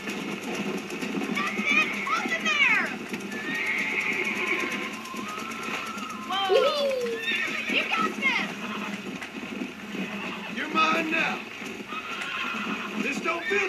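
Horses neigh and whinny repeatedly in a Red Dead Redemption game scene while one is being broken, with shrill rising calls over clopping hooves and someone talking throughout.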